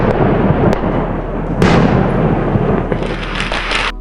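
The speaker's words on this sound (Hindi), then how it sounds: "दीपावली की रात यहाँ के लोग जमकर आतिशबाजी करते हैं" Diwali night fireworks in Indonesia crackle and boom in dense, overlapping bursts, loud and continuous with a sharper bright flurry near the end.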